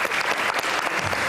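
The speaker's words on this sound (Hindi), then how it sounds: "शुमाइला की तालियां।" Applause from a television studio audience for a guest named Shumaila, a dense burst of clapping that stays loud and steady for its short duration.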